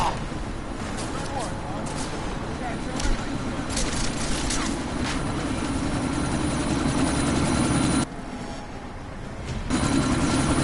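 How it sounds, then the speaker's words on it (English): A helicopter in the video game Deus Ex runs with a dense, loud rotor and engine roar that stays steady, dipping briefly near the end before surging back, with game noise layered over it. "That chopper's about to take off!"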